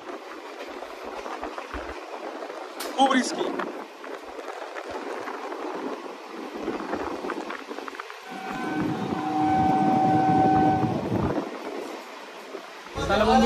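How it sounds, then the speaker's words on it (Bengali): A local train on the line towards Bongaon pulls away with a steady rumble and rattle of the carriages, rising in loudness and sustained tones partway through, while a person speaks briefly over it. "আমাদের ট্রেন এখন ছাড়লো"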